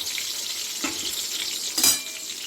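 Fennel seeds, cardamom and cloves tempering in hot oil give a steady close sizzle with a couple of louder crackling bursts as the spices hit the pan.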